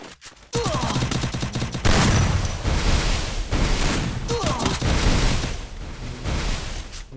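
Rapid bursts of gunfire from a shooter video game, dense volleys coming from several directions at once, loud and near, with short pauses between the heavier bursts.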